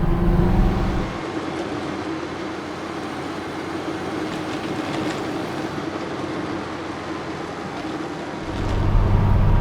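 A BMC 1100 small car on the move with its engine held at a steady drone, rising in revs at the start and end of the stretch. The sound is close and continuous, with no voices.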